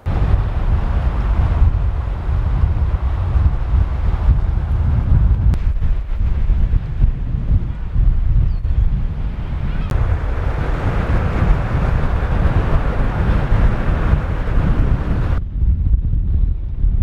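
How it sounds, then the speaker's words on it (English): Strong wind buffets the microphone with loud, continuous low roaring and rumbling gusts, with no clear speech. "It's very windy here."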